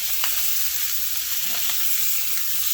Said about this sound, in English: you can usually kind of get the bacon a little cooked before you actually sear the steaks off